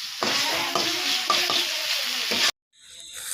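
Spiced meat being cooked down (kosha) in a pan with kasuri methi and meat masala, sizzling steadily while a spatula scrapes and stirs in regular strokes, then cutting off abruptly into near silence.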